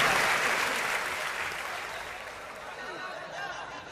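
Loud, dense applause from a live audience at a Hindi stage event, sustained throughout and slowly tapering toward the end.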